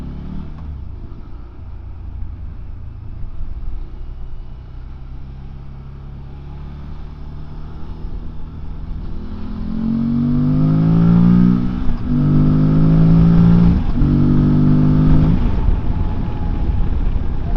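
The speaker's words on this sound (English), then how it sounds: "just a bit more induction noise. So it goes whoop more" A Morbidelli T1002V motorcycle accelerates hard in sport mode, its engine rising in pitch through several gear pulls with strong induction noise, loud and close with no talk.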